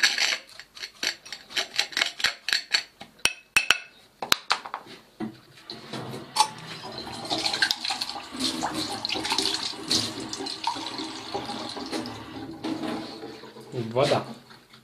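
Water is poured into a mixture of quicklime and sand, starting with irregular scraping and clinking, then a steady splashing pour with bubbling that swells and fades, and a short gush near the end.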